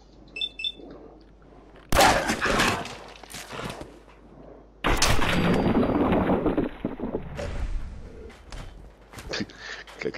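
Gunfire at a dog in the hills near Concord in Fallout 4 at dusk: sharp loud broadband gunshot bursts, one near 2 seconds and another heavier at about 5 seconds, each leaving a long rumbling decay, amid quieter game ambience with wind and faint birds.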